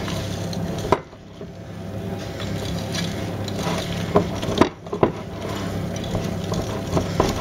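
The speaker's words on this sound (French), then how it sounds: "Mélangez bien surtout." Chocolate sponge cake batter being stirred in a bowl: continuous soft wet scraping and swishing with a few sharper knocks of the utensil against the bowl, close and fairly loud.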